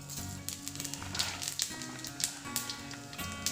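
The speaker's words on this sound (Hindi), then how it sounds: "चलिए हमारी कढ़ाई हो चुकी है, तो इसको अब हम फ्राई करते हैं" Food sizzles and crackles in a hot kadhai as vegetables and onions are fried for Maggi, a soft, steady frying hiss with quick pops and spatters, heard close and faint.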